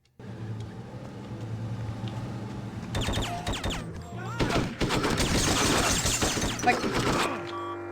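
Rapid gunfire from Hitman 2: Silent Assassin (2002) aimed at a vehicle's tires, loud bursts of shots crackling with engine and crash-like noise over several seconds, no talking.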